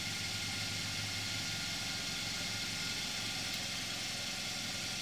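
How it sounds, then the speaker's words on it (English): A 2014 Kia Forte5 2.0 GDI engine idles steadily after a cold start, a continuous mid-pitched rumble with a faint high whine, unchanging and without any talking. "And this is what the exhaust sounds like."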